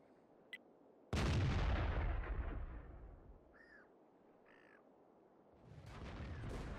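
Gunfire from enemy tanks in a tank video game, heard as a sharp crack near the start, then a loud booming blast that decays over several seconds with some bird-like chirps, before another rumbling impact swells near the end.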